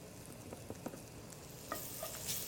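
Mushrooms with a small knob of butter frying in a hot pan, a steady soft sizzle broken by a few brief crackles and pops, faint and alone.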